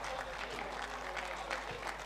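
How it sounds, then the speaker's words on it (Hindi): Quiet, distant applause from the audience at an All India mushaira poetry gathering, even clapping under a low hum, heard faintly throughout. "अब अगर जरा अच्छी सी तालियां बजा दीजिए आखिरी शेर"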